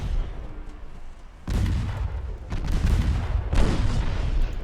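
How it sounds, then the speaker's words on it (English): Heavy naval gunfire and launch booms from a warship battle in the game Ultimate Admiral Dreadnoughts, where torpedoes are being fired; several loud, broad bursts arrive in succession, with no talking. "Six-degree left rudder, fire torpedoes on the go."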